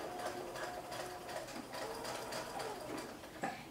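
A home sewing machine stitches slowly along pom-pom trim on a pair of shorts, a quiet, rapid mechanical whirring and clatter that runs steadily, with a small bump near the end.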